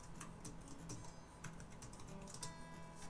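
Soft, quick keystrokes on a computer keyboard tap out a password in uneven bursts, faint and close with a low background hum.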